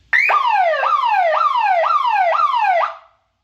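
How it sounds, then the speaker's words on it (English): A loud electronic burglar alarm siren whoops in repeated rising sweeps, about five cycles, then cuts off abruptly into silence. "I didn't mention we got a siren too. It's got two different settings,"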